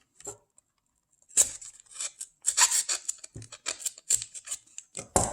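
Scissors snip and crunch through paper in quick, irregular cuts, close up and crisp, with brief pauses between bursts.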